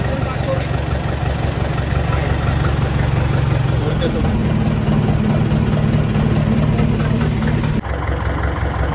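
A diesel fishing boat engine idles and runs steadily near Mumbai on a pomfret fishing trip, a loud continuous low drone that shifts in pitch partway through and drops briefly near the end.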